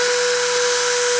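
A CNC spindle running at 30,000 RPM gives a loud, steady, high-pitched whine with a strong constant tone and bright overtones, alone and unchanging over a brief moment.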